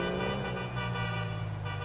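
A car horn blares steadily in a GTA roleplay game, one continuous loud tone that holds for the whole two seconds over a low engine hum, with no talking.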